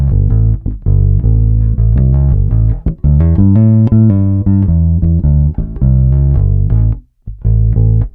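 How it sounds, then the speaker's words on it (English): Short-scale PJ bass played through its passive neck pickup with the tone control rolled almost fully down and no EQ, amp or processing, giving dark, thick, rounded notes in a busy melodic line, loud and close. "Here's the sound of the neck pickup with the tone control almost all the way down without any additional EQ, amp or processing"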